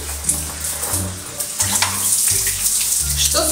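Shower water running steadily in a bathroom, a continuous close hiss and splash that stays loud throughout, with a faint low hum underneath.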